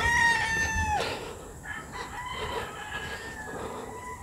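A gamefowl rooster from breeding stock crows once, loud and nearby, the long call breaking off abruptly, followed by softer clucks and farmyard fowl sounds.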